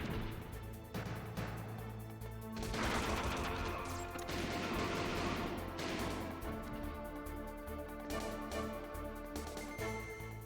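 Grenade blasts and gunfire rip through a shootout in Baldur's Gate: Dark Alliance, a dense, loud stretch of overlapping bursts and crashes that swells in the middle and keeps clattering steadily to the end.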